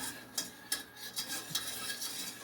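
A whisk stirs a homemade hand sanitizer mixture heating over low heat, giving quiet, soft scraping strokes with a few sharper taps against the pot, close and alone.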